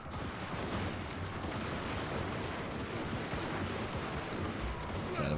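A volley of gunfire rings out in a battle video game, a dense rumbling crackle of many shots blending into a sustained roar of combat noise, with faint voices mixed in.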